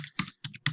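Quick bursts of keystrokes clatter on a computer keyboard at close range, a few rapid clicks grouped with short gaps between them.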